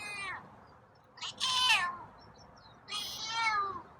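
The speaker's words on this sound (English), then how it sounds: "Oh, meowing today." A feral cat named Scruffy meows at a doorstep: a short mew, then two longer, drawn-out rising-and-falling meows, close by in a quiet outdoor setting with no talking.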